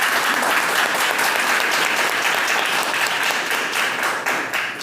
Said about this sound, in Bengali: সবার আগে নিজের জন্য একবার জোরে হাততালি দিন